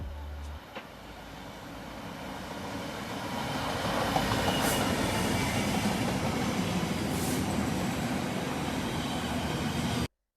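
A GB Rail Freight Class 66 locomotive hauls an intermodal freight train past, its rumble building from quiet to a loud, sustained roar of rolling wagons that ends abruptly.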